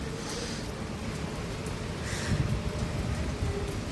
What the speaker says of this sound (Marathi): बाहेर छान पाऊस सुरू आहे